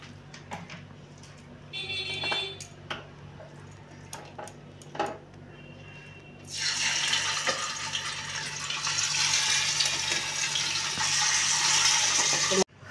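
Fish frying in hot oil in a wok: a loud, steady sizzle breaks out partway through and holds to the end, after a stretch of clinks, knocks and brief kitchen noises.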